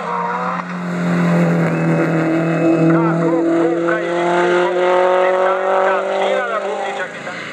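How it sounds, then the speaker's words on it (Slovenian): A race car on the Ajdovščina hill climb course roars past close by, its engine note rising and shifting as it accelerates up the hill, with a commentator talking over it throughout. "Mars je odrvel po progi na vzgor."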